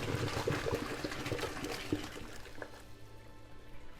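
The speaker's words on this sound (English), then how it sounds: "And pour it into a strainer." Cooked tortellini and their hot cooking water are poured into a strainer, a loud, rushing splash of water that runs steadily, then thins and fades toward a quieter trickle at the end.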